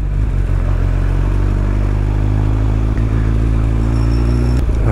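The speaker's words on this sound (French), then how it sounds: "Oh, regardez ça, une McLaren." McLaren sports car on the Monaco street circuit amid Grand Prix preparations, a loud close engine rumble holding steady with a slight rev near the end, no talking.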